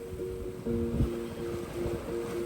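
Wind rushes across a sailboat under way on open salt water, a steady close blustery roar with a few tonal hums and thumps, and no one speaking.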